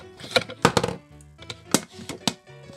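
A cluster of hard clattering knocks and rattles, then a few more sharp taps, like something dropped into a bin.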